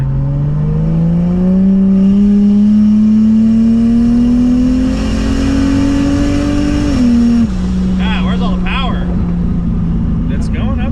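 A turbocharged Lexus IS300 accelerates hard on throttle, its loud, close engine note climbing steadily in pitch for several seconds, then dropping briefly before holding a strong drone.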